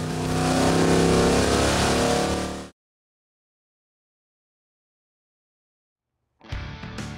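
A stroked Mopar Magnum engine revs loudly on a dyno for nearly three seconds, cuts to silence, then fires up again in a short burst at the end.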